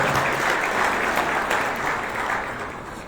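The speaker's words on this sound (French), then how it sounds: "sur vos applaudissements" Sustained audience applause from a crowd at a corporate event honoring staff, a dense even wash of clapping that fills the whole stretch and fades slightly toward the end.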